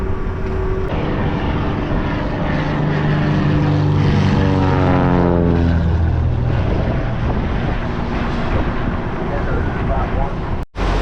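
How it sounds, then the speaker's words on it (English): Propeller airplanes at Mount Carmel Airport drone loudly overhead, the engine pitch sliding downward as one passes close by, with steady wind buffeting the microphone throughout. "2 planes."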